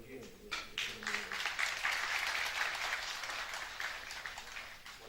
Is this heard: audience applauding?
yes